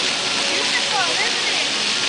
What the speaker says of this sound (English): Let's do the waterfalls here.